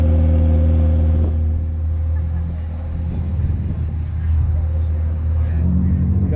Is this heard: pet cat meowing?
no